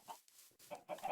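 Chickens on a chicken farm in a video game give a few short soft clucks, quiet and close, with brief gaps between the calls and no talk.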